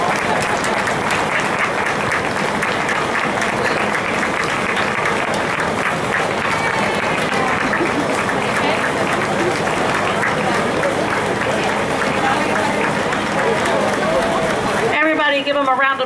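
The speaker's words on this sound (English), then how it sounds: "Everybody give them a round of applause as they come around" A crowd applauds and cheers steadily as cancer survivors walk their lap around the track at a Relay for Life event, loud continuous clapping with voices mixed in, cutting off abruptly near the end.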